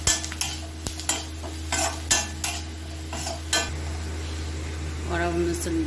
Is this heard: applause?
no